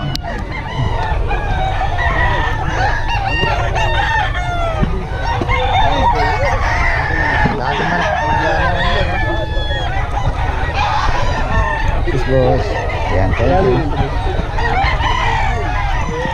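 A crowd of gamecock roosters at a seller's stall crow over one another and cluck nonstop, with people talking and chattering in the background throughout.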